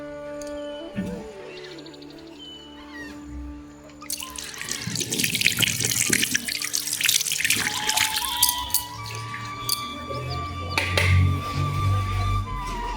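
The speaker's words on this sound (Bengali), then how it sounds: "এই যে তুলসী পাতাটা তুলে আনলাম, চলো একটু ধুয়ে নিয়ে আসি" Tap water runs into a sink as tulsi (basil) leaves are rinsed by hand, a steady close splash and trickle that begins after a quieter stretch of household noise.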